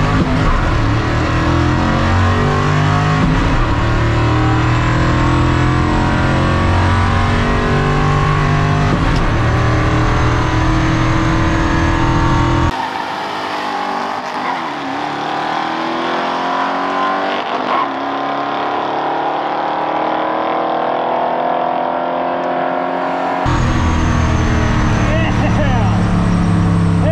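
A Ford F100 truck at a drag race launches hard, its engine roaring loudly and continuously with tyre spin, dropping briefly before surging again as it pulls away.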